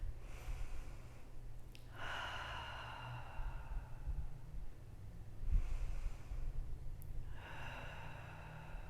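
Slow, soft breaths during a stretching flow: long airy inhales through the nose and exhales through the mouth, repeated about three times over a low steady hum, quiet and close, no talking.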